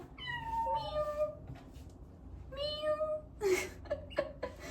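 A new pet cat meows close by, a few drawn-out, rising and falling calls with short pauses, ending in shorter, sharper cries.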